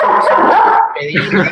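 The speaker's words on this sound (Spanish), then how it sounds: "¿A qué perro están matando?" A dog yelps and whimpers loudly and close by in a short, strained burst, with people talking over it.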